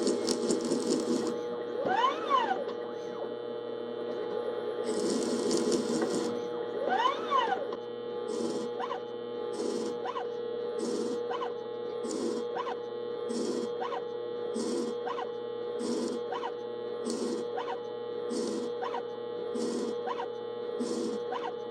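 A mini lathe converted to CNC cuts a thread on a rod, giving a steady whirring hum broken by rhythmic stepper-motor pulses that repeat about once a second. No one speaks.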